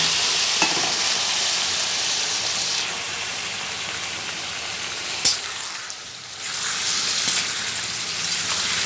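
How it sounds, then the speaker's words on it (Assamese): Chicken meat fries in a pan with a loud, continuous sizzle like steady rain, close up, with a brief stirring clatter midway and a short dip before the hiss returns. "এতিয়া মাংসখিনি দিম মাংসখিনি ফ্ৰাই কৰি লওঁ অলপমান"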